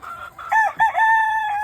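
A rooster crows loudly and close by in a yard with hens and pullets, the crow coming as several harmonic bursts that settle into a long, sustained final note.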